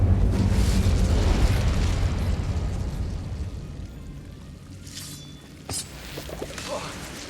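The Incendio fire spell is cast in Hogwarts Legacy with a loud, rushing burst of flame that fades out over a few seconds. A couple of sharp crackles and pops come near the end.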